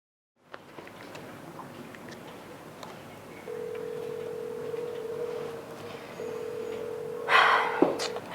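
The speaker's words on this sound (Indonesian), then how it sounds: "Nggak diangkat lagi teleponnya." An outgoing phone call rings without answer: a steady electronic ring-back tone sounds, pauses briefly, then resumes before a short burst of clatter near the end.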